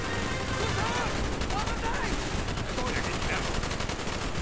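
Dense, steady gunfire from the Vietnam trench warfare in Call of Duty Black Ops, loud and continuous with rapid automatic bursts layered over one another and no gaps, heard alongside game effects.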